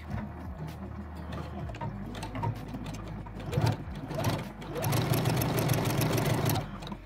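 A sewing machine threaded with red thread stitches a fabric gift pouch, giving a close mechanical whir that runs unevenly, then surges into a louder, steadier burst before stopping.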